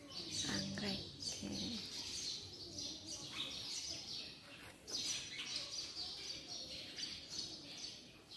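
Birds chirp and coo continuously in a lively outdoor chorus, moderately close, with a steady background wash.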